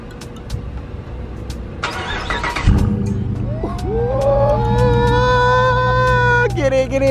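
A car engine cranks and catches, then settles into a steady running hum with rising exhaust tones, while people talk over it nearby.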